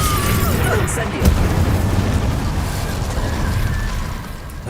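Spell explosions in the Hogwarts Legacy video game, a dense, loud rumbling blast with a sharp burst near the start, over a continuous roar of game sound.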